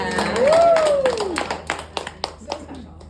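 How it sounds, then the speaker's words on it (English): A group claps for a woman named Carmen at a doula village gathering in Los Angeles, with a scattering of hand claps running under a voice speaking over it. "Round of applause for Carmen."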